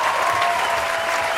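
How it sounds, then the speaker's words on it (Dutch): Steady, dense applause from an outdoor festival crowd on a town square, greeting the show's director, even and sustained throughout. "Applaus voor Kevin."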